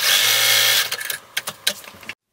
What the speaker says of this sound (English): sew a top stitch right across so you can close that hole